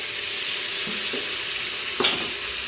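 Tomatoes sizzle in a hot frying pan of oil with ginger and garlic for chicken biryani, a steady close frying hiss with a few brief stir clatters.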